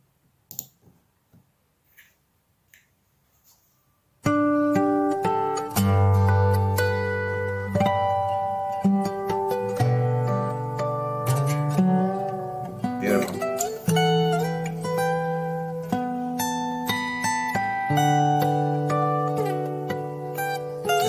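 Guitar cover, with a few faint clicks and then a loud, full instrumental passage of layered melodic notes over low bass that plays on steadily, close and clear.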